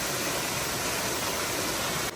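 Waterfall on a Los Padres hiking trail near Santa Paula, a loud, steady broadband rush of falling water close by, continuous and unbroken with no talk.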